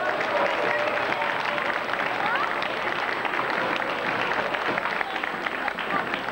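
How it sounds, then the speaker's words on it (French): An audience at an open-air son et lumière show about Jeanne d'Arc in Martin-Église claps for the seamstresses. The dense applause runs continuously at moderate loudness, with faint crowd murmur and a voice mixed underneath. "et ils méritent vos applaudissements"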